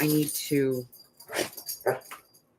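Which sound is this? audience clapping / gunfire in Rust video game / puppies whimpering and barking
puppies whimpering and barking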